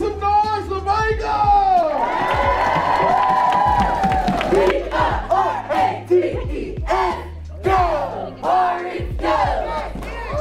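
A crowd at a rowing event for Waco roars and whoops loudly, sustained cheering with shouts and yells rising and falling, while a voice booms over the noise.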